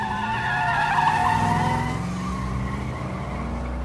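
A car's tires squeal and skid as it drives away, a loud wavering screech with engine roar that fades into a lower rumble as it pulls off.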